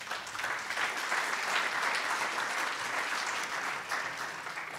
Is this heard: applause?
yes